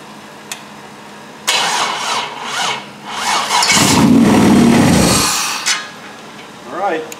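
A turbo LS V8 mounted on an engine stand cranks and fires, catching with a rising roar, then settles into a rough, uneven cold idle before dropping away; faint voices surface near the end.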